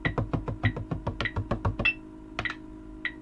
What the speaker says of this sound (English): the check pattern sounds like this. All taps.